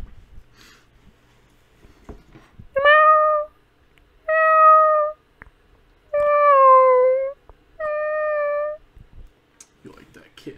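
A kitten gives four drawn-out, tonal meows in a TikTok video, each clear and fairly close with short pauses between, over faint background noise.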